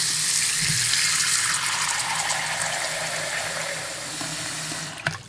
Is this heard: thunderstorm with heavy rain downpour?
no